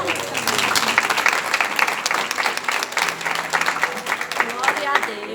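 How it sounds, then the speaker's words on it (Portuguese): A church congregation breaks into sustained applause during a Brazilian worship service, with dense, even clapping throughout and a voice rising over it. "Aplauda Jesus."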